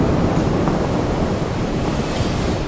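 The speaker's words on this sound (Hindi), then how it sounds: "समुद्र में भीषण लहरें उठने लगी।" Violent sea waves surge and roar in a dense, continuous wash of noise, loud and close, with a gusty wind-like rush and no voices.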